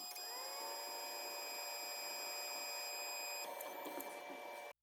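A Makera Carvera Air four-axis desktop CNC machine runs with a steady, whining mechanical hum and high tonal drone that shifts slightly near the end before cutting off abruptly.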